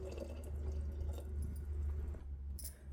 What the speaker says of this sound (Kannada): ಇನ್ನೊಂದು ಸ್ವಲ್ಪ ನೀರು ಹಾಕ್ತೀನಿ